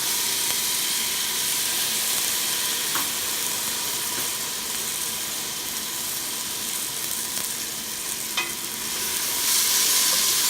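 Garlic sautéing in a pan for beef stew while being stirred, producing a steady, close hissing sizzle with a few faint clinks of the utensil against the pan.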